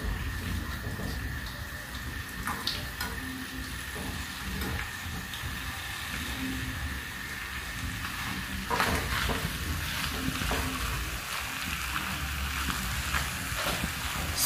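Beef tripe frying in oil with onions and tomatoes, a steady close sizzle and crackle with occasional stirring scrapes throughout.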